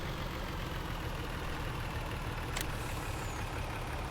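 A truck engine in Farming Simulator 19 idles steadily with a rough, low rumble throughout, broken by one brief sharp click midway.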